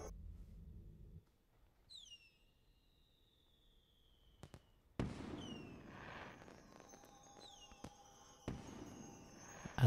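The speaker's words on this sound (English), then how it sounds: "Fireworks." Synthetic fireworks from the video game Candleman whistle upward and burst repeatedly in a looping pattern, with crackling pops and sharp bangs at intervals; moderately loud, no speech.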